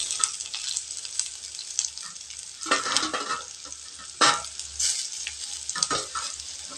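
Garlic and broken dried red chillies frying in hot oil in a pan, a close crackling sizzle with louder bursts and spatters as the pieces are stirred, no voices.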